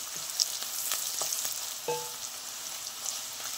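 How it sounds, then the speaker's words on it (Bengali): Onion, chilli and garlic fry in a pan with a soft steady sizzle, broken by a few clinks and scrapes of a stirring utensil against the metal. "পেঁয়াজ, লঙ্কা, রসুনটা একদম ভাজা ভাজা করে নিয়েছি"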